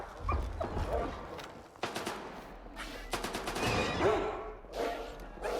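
Dogs barking in the shooter game S.T.A.L.K.E.R. 2: Heart of Chornobyl, sharp repeated barks mixed with bursts of gunfire, moderately loud over a rumbling background.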